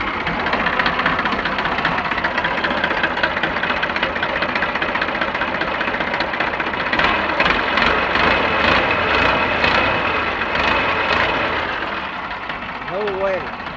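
New Holland 3037 tractor engine idles with a steady, even knocking hum nearby for the whole stretch, while someone talks over it.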